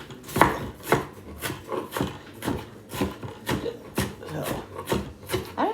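A knife chops an onion into small pieces on a wooden board, about a dozen close, crisp strokes falling in an even rhythm, roughly two per second, with no talking.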